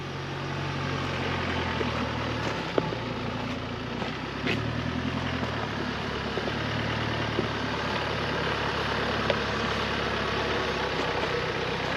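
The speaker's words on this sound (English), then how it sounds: "Hear that diesel." Diesel engine of a Colorado ZR2 off-road truck crawling a rocky mountain trail at Pennsylvania Gulch, a steady low rumble holding at idle-like revs throughout with faint knocks and scrapes, no talk.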